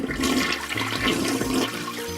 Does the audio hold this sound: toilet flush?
yes